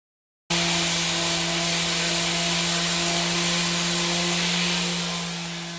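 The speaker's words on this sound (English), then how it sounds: "Now it's time to do the touch-up sanding" Power sander doing touch-up sanding on a concrete countertop, a steady loud whine with a constant tonal hum that starts abruptly and runs continuously, easing slightly at the end.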